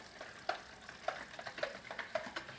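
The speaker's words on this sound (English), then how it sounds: "you're going to mix that all together by hand. I like using a whisk" Whisk stirring oil and other ingredients together by hand for babka dough, giving faint, steady scraping with four sharper clinks against the bowl at roughly half-second intervals.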